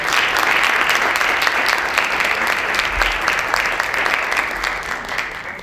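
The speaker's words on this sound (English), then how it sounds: "Can we give the mayor another round of applause?" A large audience applauds the mayor at a Chicago public schools celebration: dense, sustained clapping that fills the room steadily for several seconds without a break.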